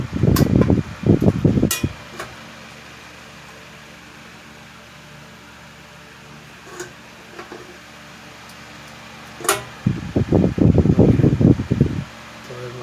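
A Wizard hassock fan with a newly fitted replacement motor runs steadily with a close, even whir and airy hum, broken at the start and end by louder bursts of handling noise and a couple of sharp clicks.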